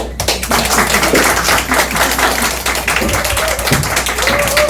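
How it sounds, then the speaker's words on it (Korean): A seminar audience gives loud, dense applause to welcome a speaker to the front, a continuous crackle of many hands clapping close by for several seconds. "큰 박수로 모시겠습니다"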